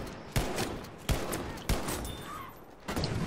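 Battlefield V gunfire cracks out in four sharp, loud shots spaced under a second apart, each with a ringing tail over a constant battlefield rumble.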